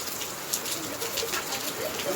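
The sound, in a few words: first rain of the season falling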